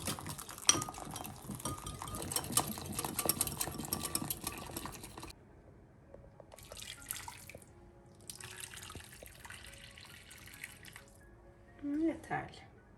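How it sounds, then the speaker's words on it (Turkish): Water is poured into a pan of Turkish-style stuffed eggplant with tomato paste, a few seconds of steady splashing flow. Quieter kitchen clatter and a brief scrape follow. "Suyumuzu döküyoruz."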